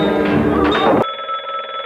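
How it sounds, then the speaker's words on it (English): A telephone bell rings loudly with a steady, bright electronic trill for about a second and then cuts off abruptly, leaving only a quieter tonal hum behind. "Oh, there's the phone now."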